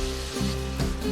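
A brief, steady sizzle of katla fish pieces frying in oil, heard beneath soft background music.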